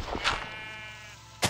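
Minecraft sheep giving a short wavering bleat, close and clear, bracketed by a couple of brief soft bursts of other in-game noise.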